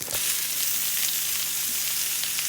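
Asparagus and ground turkey sizzle loudly and steadily in a hot pan, a dense, even crackle of frying that runs throughout with no talking.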